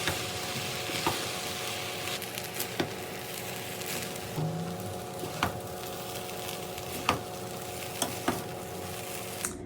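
Shrimp fried rice seasoned with lemon pepper sizzles steadily in a pan while a utensil stirs it, with sharp scraping clicks scattered over the continuous frying hiss.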